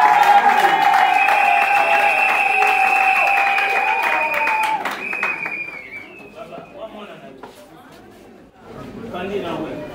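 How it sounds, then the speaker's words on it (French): Guests at a civil wedding clap amid loud, high-pitched voices and chatter, the noisy celebration gradually easing off before the clapping picks up again. "Applaudissez."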